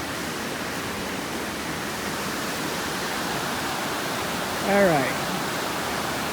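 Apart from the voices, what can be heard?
river rapids rushing below a bridge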